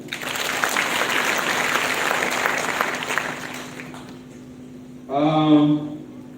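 An audience applauds at a county scholarship award ceremony in Bungoma, with sustained clapping for about four seconds that fades out, followed by a brief spoken voice.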